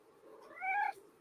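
A house cat gives a single short, rising meow, close but soft, against quiet room tone.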